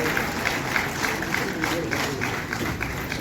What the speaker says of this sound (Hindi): बबली रानी जी के लिए तो लगातार तालियां बजनी चाहिए